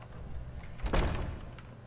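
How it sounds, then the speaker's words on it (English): Wooden door in Skyrim swinging shut and being locked, a single dull thud with a brief rattle, fairly close and alone against quiet game ambience. "I need to lock the door behind you"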